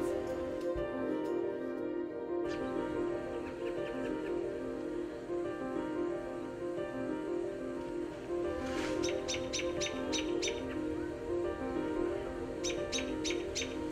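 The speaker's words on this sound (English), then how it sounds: "Birds singing songs of praise." Bright chirping bird calls come in short bursts over a steady, humming background, with clusters of quick repeated notes near the end.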